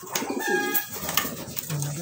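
Racing pigeons coo softly and repeatedly up close on a truck loading trip, low throaty warbles overlapping with faint background noise.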